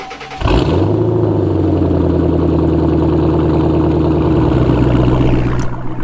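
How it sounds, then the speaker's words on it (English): A car engine cold-starts: a brief crank, then it catches abruptly and settles into a loud, steady, rumbling idle that continues evenly to the end. "let's give you guys a cold startup"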